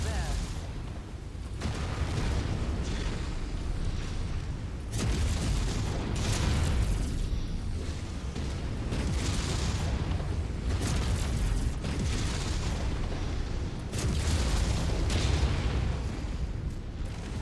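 Destroyed targets blow up in the mech combat game MechWarrior 5, several heavy booming explosions arriving in waves over dense rumbling battle noise, with a voice talking at times.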